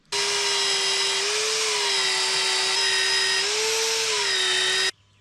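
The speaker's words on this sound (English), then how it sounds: "I got a bunch of holes to drill." A power drill whirs steadily at high speed for several seconds while drilling holes for a garden gazebo deck, then cuts off abruptly; loud, close, and alone.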